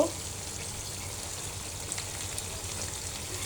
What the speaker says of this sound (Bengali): আমি মাংসটা একদম ভাজা ভাজা করে নেব